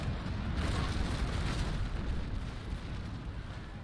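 A heavy naval cannon fires from a sailing warship in the Naval Action game, a deep, rumbling boom that rolls on and fades slowly over several seconds.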